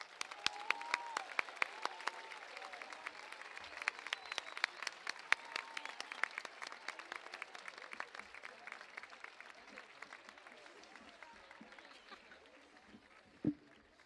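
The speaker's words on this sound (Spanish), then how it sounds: "per favor, un fort aplaudiment per a tots ells" Applause from a school concert audience honouring the students, a steady wash of many hands clapping throughout, fairly distant and moderate, with a few sharper claps and a brief loud knock near the end.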